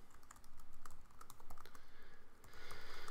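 Someone types text into a web page on a computer keyboard, and the keys click in quick, uneven bursts close to the mic. A steady background hum sits underneath, and no one talks.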